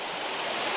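A waterfall pours in a steady, dense roar of rushing water that stays even and unbroken from start to finish.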